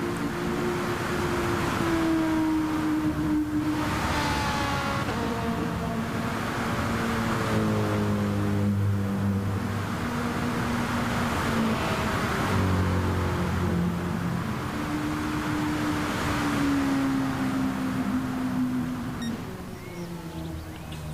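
A Nissan GT-R GT3 race car drones along the Spa circuit in a racing video game. Its engine note climbs and falls through shifting gears at moderate, fairly distant volume, with a steady wash of noise underneath.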